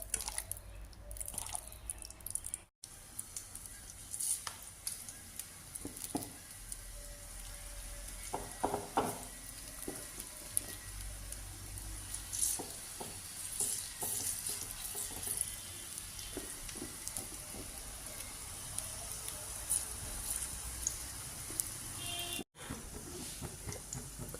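Batter of mashed banana, wheat flour and a little salt frying in hot oil in a home kitchen, with soft steady sizzling, scattered drips and wet squishy pops throughout, no talking.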